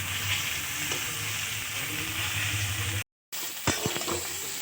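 Pointed gourd (potol) slowly frying in oil in a pan, giving a steady soft sizzle. It cuts out briefly, then comes back with a few stirring clinks and scrapes.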